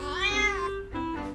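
A cat meows in the Legend of Zelda: Echoes of Wisdom video game, two clear, close meows in a row with a rising-then-falling pitch, heard alone with no talk.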